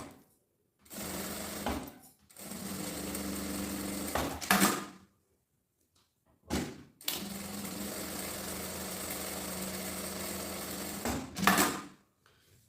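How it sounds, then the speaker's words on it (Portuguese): Sewing machine stitching along the edges of a fabric strap for a round pouch, close and clear in several bursts of fast, even whirring separated by short pauses. "Vou pegar a alcinha, passar uma costurinha na beiradinha, nas duas beiradinhas, de cá e de cá."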